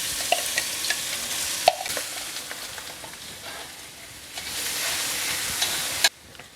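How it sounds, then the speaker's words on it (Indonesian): Sliced shallots and garlic sauté in hot oil for lumpia filling, a continuous close hiss of frying with brief stirring clicks and scrapes, the sizzle swelling midway before cutting off abruptly near the end. "Tumis sampai bawang putihnya mateng ya"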